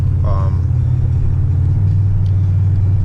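LS4 V8 car engine with a resonator or muffler delete, a loud steady low exhaust rumble held close throughout, with someone talking over it at the start.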